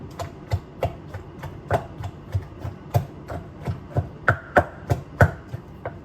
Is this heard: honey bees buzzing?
no